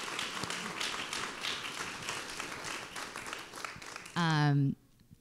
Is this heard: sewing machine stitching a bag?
no